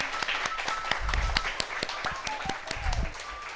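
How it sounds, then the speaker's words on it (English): Scattered clapping from a small crowd, sharp individual claps overlapping in an irregular patter over a few seconds. "Let's give a big round of applause to Pratik."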